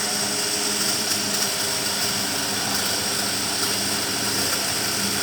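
A universal motor runs steadily during a lab practical, giving a loud continuous high-pitched whine and hum with an even, unchanging drone throughout and no talk over it.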